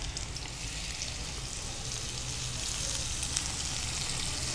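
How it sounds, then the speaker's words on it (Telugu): Washed dried shrimp fry in a pan for a spinach-and-prawn stir-fry, giving a steady, close sizzle that holds evenly throughout with no pauses. "సో ఇది కొంచెం వేగాలి, కొంచెం గోల్డెన్ కలర్ వచ్చే వరకు వేగించుకోవాలండి"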